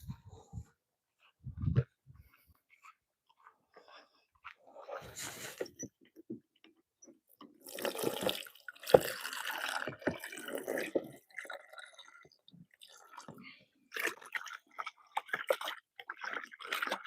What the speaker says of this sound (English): Right now, I'm getting rainwater from the rainwater system here.